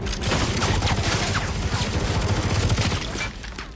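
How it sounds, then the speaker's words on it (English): Sustained volley of machine gun fire from a film scene, dense rapid bursts of shots at steady loudness, tailing off at the end. "spies on a group of men testing machine guns. One of them begins firing in her direction"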